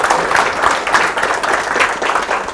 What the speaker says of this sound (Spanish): primero demos un aplauso a Manuel Río Seco.